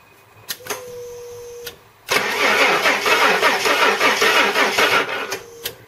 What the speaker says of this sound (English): Its engine sounds a bit sick.